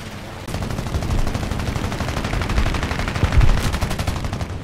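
Rapid gunfire in the aircraft combat game War Thunder, with loud, dense bursts of machine-gun shots rattling on almost nonstop, close and harsh, with a few heavier thumps mixed in.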